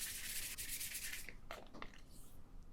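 A titanium knife blade being sanded by hand with 320 grit sandpaper, steady close rasping strokes for over a second, then a few shorter, quieter rubs and scrapes trailing off.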